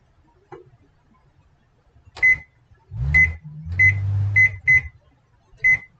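A kitchen microwave oven's timer being set: about six sharp, high electronic beeps spaced irregularly, loud and close, with a low hum from the appliance between them.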